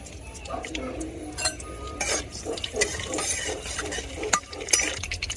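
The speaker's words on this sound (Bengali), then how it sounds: "কড়াইতে দিয়ে দিব তেল এবারে দিয়ে দিব দুইটা তেজপাতা দুইটা এলাচ দুই টুকরো দারচিনি কয়েকটা আস্ত জিরা" Whole spices, bay leaves, cardamom, cinnamon and cumin, frying in oil in a pan, with a soft steady sizzle under clinks and scrapes of a utensil stirring against the metal.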